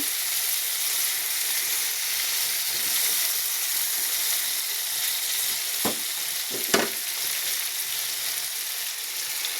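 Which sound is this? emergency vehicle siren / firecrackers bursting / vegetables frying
vegetables frying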